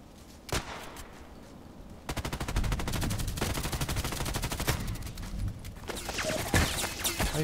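Rapid automatic gunfire in a tactical shooter with an HK417 rifle, a long sustained burst of closely spaced shots after a lone crack, loud and near, with further scattered shots trailing off at the end.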